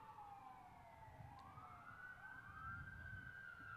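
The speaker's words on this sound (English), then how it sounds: "As sirens wail in the background" Sirens wail from a distance during a soccer match, their pitch sweeping down and then up again, faint over a low background rumble.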